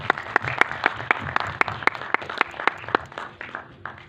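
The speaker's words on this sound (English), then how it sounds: "big round of applause please." Audience at a Hindi trailer launch for the film Kabza applauding, a thin, sparse clapping with distinct rhythmic claps standing out over a lighter background patter.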